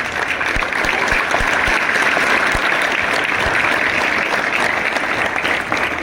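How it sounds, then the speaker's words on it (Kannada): Loud, continuous clapping from an audience at a motivational talk, a dense wash of hand claps with a few sharper close claps standing out, sustained for about six seconds. "ಸ್ವಲ್ಪ ಜನ ಚಪ್ಪಾಳೆ ಹೊಡೆದು ಸ್ಟೈಲ್ ನೋಡು"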